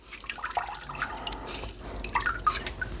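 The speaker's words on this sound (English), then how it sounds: "So now I'm going to go ahead and rinse my hands because I am all kinds of sticky." Water from a kitchen sink tap splashes over sticky hands while making an icebox fruit cake, a close, uneven trickle with small drips and splatters, no talking.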